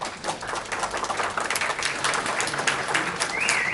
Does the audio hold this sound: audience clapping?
yes